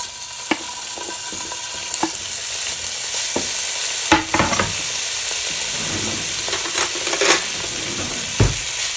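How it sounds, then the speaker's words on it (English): Strips of beef for stroganoff sizzle steadily in a hot pan, a continuous loud frying hiss broken by scattered clinks and scrapes of a utensil against the pan, with no talk. "We just cut it into little strips. And you just throw it in the hot pan."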